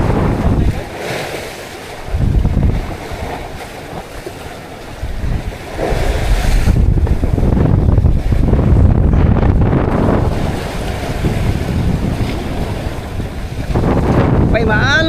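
Rough sea heard from aboard a boat in bad weather: waves surge and slosh around the hull while strong wind buffets the microphone, loud and continuous with rising and falling gusts.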